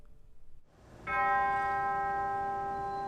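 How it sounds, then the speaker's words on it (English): After a brief muffled murmur, a single church bell strikes and rings on at the funeral of Rep. John Lewis, its bright tone sustaining and slowly fading. "80 bells for 80 years"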